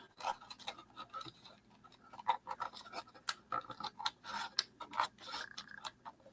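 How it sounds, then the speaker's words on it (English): Wet decoupage paper being torn by hand along damp edges, a string of close, quiet crackling rips and scratchy bursts in an irregular rhythm. "Just tear it with my fingers."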